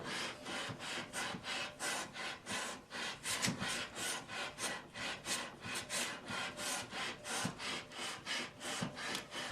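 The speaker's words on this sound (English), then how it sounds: "I keep on sanding, and it is sanding at an angle" Rhythmic back-and-forth rasping of a Stratocaster guitar's wooden body being sanded at an angle, about two strokes per second, steady and close throughout.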